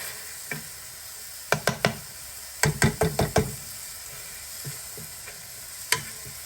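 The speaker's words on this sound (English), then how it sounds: "So I am going to cook this sausage all the way through." Jimmy Dean sausage fries in a pan under a faint sizzle, broken by sharp knocks and scrapes of a utensil stirring and breaking it up, several in quick succession.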